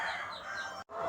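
Young chickens in a coop give a dense, steady chorus of clucks and chirps, close and continuous with a brief cut of silence near the end.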